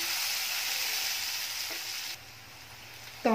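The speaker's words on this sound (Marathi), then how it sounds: "त्याच्यामध्ये एक छोटा टोमॅटो बारीक करून घेतलेला आहे. टोमॅटो मऊसर होईपर्यंत तेलामध्ये परतून घ्यायचा आहे." Finely chopped tomato sautés in hot oil in a pan, producing a continuous close sizzling hiss that drops slightly in level partway through, ending with a brief clink of a utensil, with no talking.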